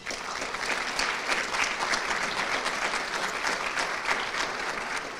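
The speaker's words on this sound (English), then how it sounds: "So if you could help me give them a round of applause" A luncheon audience at the 2024 Guardians for Good Awards claps for the event sponsors, sustained dense applause from many people, even and fairly loud throughout.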